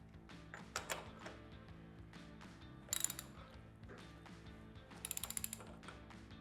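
A bolt on a Harley Sportster is tightened with a ratchet, giving short bursts of rapid clicking pawl sounds against a quiet workshop background, close up and without talk.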